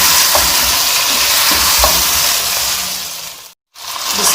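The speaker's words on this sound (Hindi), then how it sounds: "यहाँ पे मैं अदरक और लहसुन का पेस्ट डाल दूँगी। और इसको अच्छे तरीके से भून लेंगे।" Ginger garlic paste frying for white chicken korma, a loud, dense sizzle and hiss that runs steadily, then cuts out briefly and returns.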